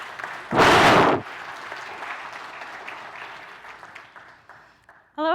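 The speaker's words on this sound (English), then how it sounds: "Please give a round of applause for Julia." An audience applauds in a loud burst of clapping lasting under a second, then quieter murmuring, at a presentation on trusted data for AI.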